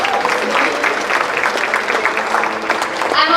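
Steady, dense applause from an audience at an educators' award ceremony as an honoree heads to the stage, a continuous wash of many hands clapping at fairly high volume.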